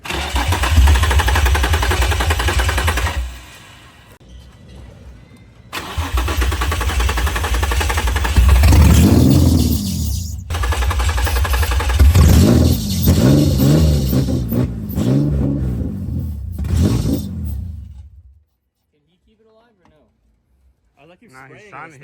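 A Honda S2000 drift car engine cranks and revs in uneven bursts, rumbling loud and close before cutting out and falling quiet, with people talking over it.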